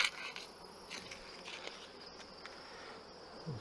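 Bees from a small combined hive hum steadily at a faint, close level throughout a late-season colony check, a continuous insect drone with a few soft knocks and no talking.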